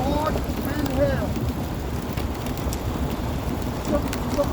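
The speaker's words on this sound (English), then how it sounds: "Fog and hail." Hail falling through fog, a dense continuous patter and rattle on surfaces, steady and fairly loud throughout, with faint whistling tones in the background.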